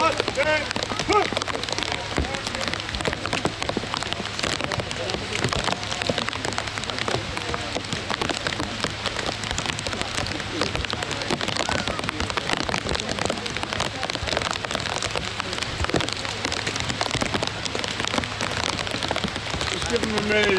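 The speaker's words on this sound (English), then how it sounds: "it's raining" Rain falls steadily outdoors at a Memorial Day ceremony in a cemetery, a dense, even patter and hiss that stays constant throughout, with a low hum beneath.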